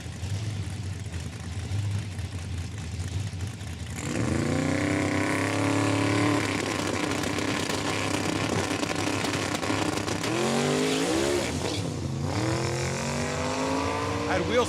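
A 1968 Chevy Camaro makes a heads-up drag racing run at Saskatchewan International Raceway. Its engine roars loud and close as it launches, then climbs and dips in pitch through gear changes, under an announcer's talk over a steady crowd-like background.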